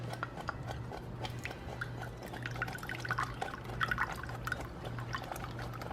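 A soy sauce marinade bubbles in a hot pot, giving a steady crackle of small pops and drips at moderate closeness over a low constant hum, with no talking.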